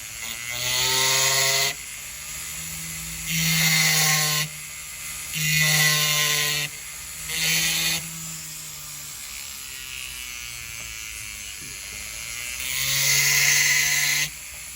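A rotary burr grinds on a stone-in-place ring, whining loud and close in five or so sustained bursts of a couple of seconds each, separated by quieter gaps where the tool spins down.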